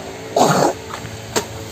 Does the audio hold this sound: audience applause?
no